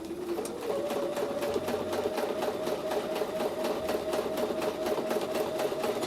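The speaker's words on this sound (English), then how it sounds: "I'm following this line of stitching" Sewing machine stitching a quilted Christmas table runner, running continuously at a steady fast pace with a rapid rhythmic needle clatter and a sustained motor whine, close and fairly quiet, with no talking.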